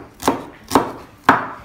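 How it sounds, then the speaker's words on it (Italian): A knife chopping onion into fine pieces, three distinct, evenly spaced thuds against a cutting board, close and clear with no talk. "ci fa piccola piccola la cipolla a pezzettini, fina fina"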